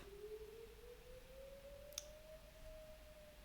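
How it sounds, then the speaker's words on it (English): A distant tornado siren test wails faintly in one long rising tone beneath background hiss, with a single sharp click midway. "tornado siren test, I guess, is going on right now."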